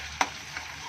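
Goat brain frying in hot oil with salt while being stirred, a steady soft sizzle with one sharp scrape of the spoon and a fainter second stir shortly after, no voices.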